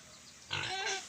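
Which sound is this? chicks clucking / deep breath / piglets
piglets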